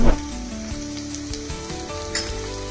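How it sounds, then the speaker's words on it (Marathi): Onion sautés in a pan for vegetable cutlets, a close, steady sizzle broken by a few stirring clinks and scrapes while a low tonal hum runs underneath. "त्या पाठोपाठ कांदा टाकून चांगलं परतायचं आहे"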